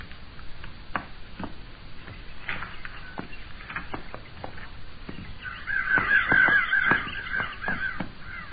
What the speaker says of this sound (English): Them crows, we flushed back there and went back to eating again.